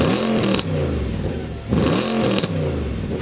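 An Audi B7 RS4 Avant, a crash-damaged estate, has its engine revved in two strong blips, rising quickly to a loud roar and then falling back, heard close up.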